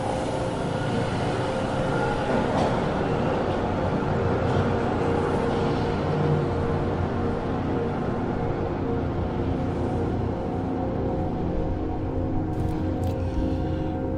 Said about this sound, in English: The train's rhythm became erratic, the clatter of wheels uneven.